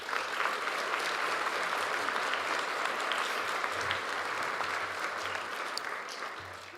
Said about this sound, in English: would the audience please join me in a round of applause for their service to our